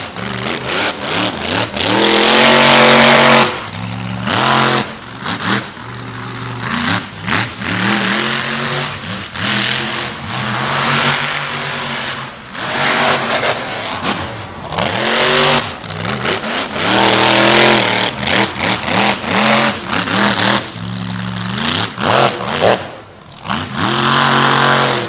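Racing trucks at an All Star Championship track event repeatedly rev and accelerate, loud continuous engine roar with rising and falling pitch sweeps as trucks land and get back on the throttle.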